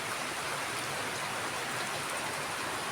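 Heavy rain pours down in a dense, steady hiss, falling on surfaces nearby with no pause and no voices.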